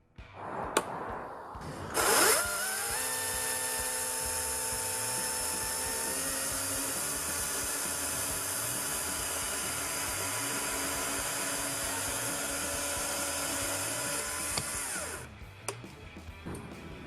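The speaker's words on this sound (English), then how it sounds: "Let the chainsaw pull you towards the wood and apply a slight downwards pressure" A steady, high-pitched STIHL chainsaw motor whine runs for over ten seconds with a revving start and clean stop, cutting through wood.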